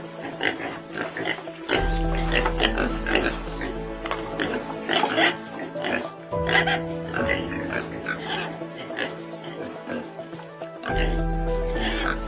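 Pigs on a farm oink and grunt repeatedly in overlapping bursts, fairly loud and close, with a steady low rumble underneath and a few louder squeals breaking through.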